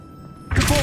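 An Expelliarmus spell cast in the Hogwarts Legacy video game lands as a sudden loud thudding impact after a half-second of quiet, then rings on briefly.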